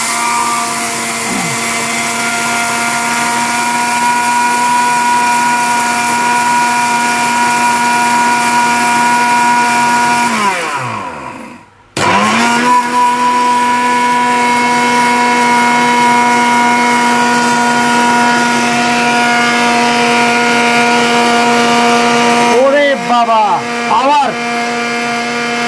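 Orpat 1600-watt blender with a steel bush grinding whole rice into flour, a loud, steady high-pitched motor whine that cuts out once and restarts, with brief speed changes near the end.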